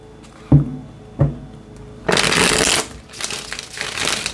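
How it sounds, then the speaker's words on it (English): Tarot cards are handled in two quick taps and then shuffled in two bursts of crisp riffling and sliding, close and clear with nobody talking. "One last shuffle."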